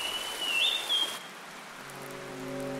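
Steady rain hisses down in a rainforest with a bright whistling bird call over it, then the rain fades and a low tonal hum remains.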